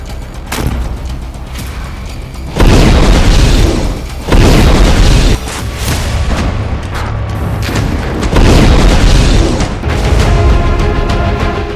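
Heavy blasts and rumbling bursts in combat against Israeli tanks and infantry, dense loud booms and crackling repeating throughout, harsh and saturated, with no voices.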